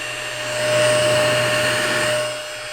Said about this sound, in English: It's mini vacuum cleaner.